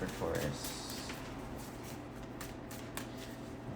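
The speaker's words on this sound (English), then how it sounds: "One more bridge shuffle and then splitting it up." Playing cards riffle together in a quick bridge shuffle, followed by soft card handling and shuffling noises close by.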